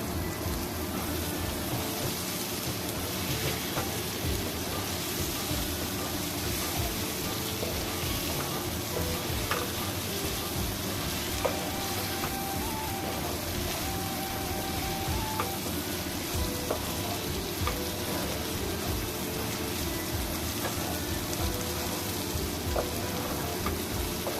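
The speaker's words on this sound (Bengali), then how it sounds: "এইভাবে একটু ভেজে নিই" Pieces of boiled chicken frying in a pan, a dense, continuous rain-like sizzle and crackle that holds steady at close range with no talk.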